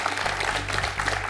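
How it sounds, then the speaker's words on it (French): Studio audience applause on a televised French quiz show, a brief, full and steady round of clapping heard alone. "Vous avez raison de l'applaudir."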